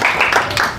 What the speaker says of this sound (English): so the last applause might be for yourself